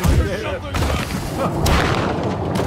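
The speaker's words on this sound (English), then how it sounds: "I really want to fire a grape shot." A pirate ship cannon fires grape shot in the Blackwake video game, giving a sharp booming blast within a rumbling battle mix while a person talks over it.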